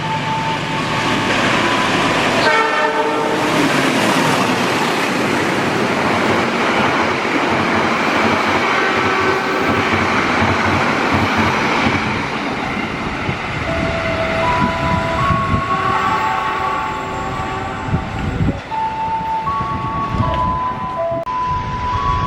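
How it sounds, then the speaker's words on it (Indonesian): The Parahyangan passenger train (an extra, non-regular service) rolls through an Indonesian station on track 2, a loud sustained roar of wheels and carriages with screeching metallic squeals, passing close by, no voices. "jalur 2 akan melintas kereta api Parahyangan fakultatif"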